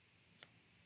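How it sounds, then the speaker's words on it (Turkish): Scissors snip excess knitted yarn: a couple of crisp, sharp cuts spaced apart, close and clear against quiet. "Düzeltebilirsiniz yani makasınızla."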